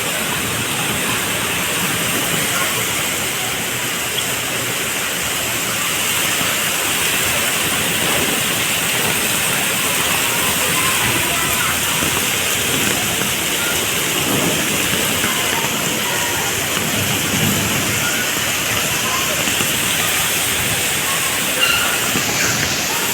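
Heavy downpour roars without a break for over twenty seconds, a loud, dense wash of falling water with distant voices faintly under it.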